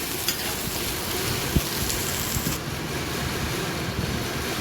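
Dosa batter hissing and sizzling on a hot pan, a loud, continuous crackling fry with a few small pops and a slight drop in brightness toward the end, with no talking.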